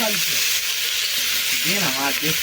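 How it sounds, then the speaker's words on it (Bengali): Onions sizzle loudly in hot oil in a pot as they are stirred during outdoor picnic cooking, a continuous close frying hiss with scraping stir sounds and no talk. "এই যে আমরা দিয়ে দিচ্ছি পেঁয়াজ।"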